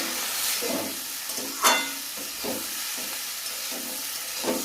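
Vegetables with red masoor lentil bori are stirred in a hot pan, steady frying sizzle broken by rhythmic spatula scrapes and pushes, close and moderately loud, no talking.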